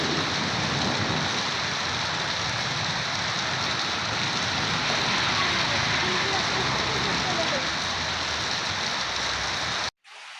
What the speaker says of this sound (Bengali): এখন কিন্তু খুব জোরে সোরে নামছে বৃষ্টি